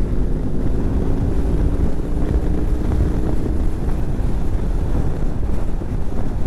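Steady, loud wind roar buffeting the microphone while riding a BMW R 18 cruiser motorcycle at speed, a dense low rumble with no pauses and no speech.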